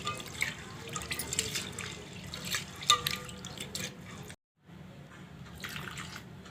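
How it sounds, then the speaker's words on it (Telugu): Toor dal being washed under running water in a kitchen: trickling and dripping with small splashes, faint and close, broken by a short silent gap. "దీంట్లో కందిపప్పు పోసుకొని అలాగే వాటర్ పోసుకొని నీట్గా క్లీన్ చేసి పెట్టుకుందాం."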